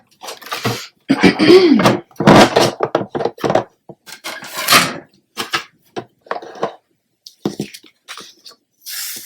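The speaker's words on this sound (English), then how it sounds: "I'm going to come in with my big shot, and then we're going to cut the sunflower out" Big Shot die-cutting machine cutting out a paper sunflower for a Stampin' Up! card, heard as a series of loud crank-driven rumbles and clunks with short pauses between, close by and with no talking.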